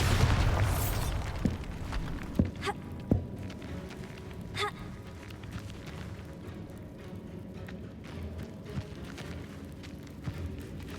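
Explosive Bombarda spell blasts in Hogwarts Legacy, a loud burst at the start followed by several softer thumps and pops scattered over a low rumbling game background, with a few gasps.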